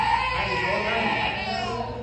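A baby cries steadily inside an abandoned sanatorium, a continuous wailing sob heard from a short distance, with a person's voice mixed in beneath it.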